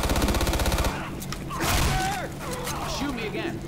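Rapid automatic gunfire in Left 4 Dead 2, a fast burst opening the clip, then scattered thuds and game noise with voices talking over it.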